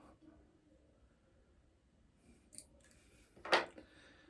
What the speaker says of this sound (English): Cut that piece off.